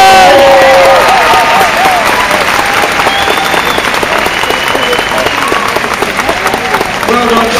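Loud, dense applause and cheering from a large audience in the arena at the Crufts Freestyle dog dancing final, sustained throughout, with whistles and voices mixed into the crowd noise.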